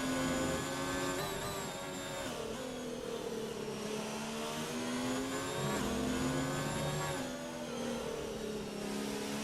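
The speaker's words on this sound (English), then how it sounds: "Down the gears nice and high in the rev range there, as you can hear." A Formula race car in a PS4 racing game at the Austrian circuit screams high in the rev range, with a continuous engine whine dropping and jumping through a run of quick downshifts, loud and without talk.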